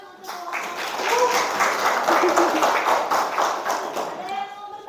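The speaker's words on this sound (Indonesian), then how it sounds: "boleh tepuk tangan untuk kelompok" Classroom students clapping for a group after a presentation on calipers, a few seconds of brisk applause that swells and fades, with voices and light taps mixed in.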